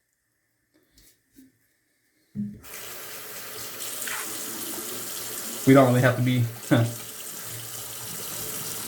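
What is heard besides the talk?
water running to wet sharpening stone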